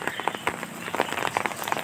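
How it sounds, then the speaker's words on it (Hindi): Heavy rain falls steadily over an outdoor spot where a bird bathes with open wings, a dense close hiss broken by brief louder drop splashes throughout. "और इस वक्त फुल तेज़ बारिश हो रही है"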